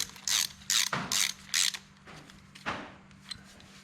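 A ratchet wrench tightens bolts on a Minneapolis Moline A4T tractor engine, several quick rasping clicking bursts close up, followed by a pause and one more short ratchet pull.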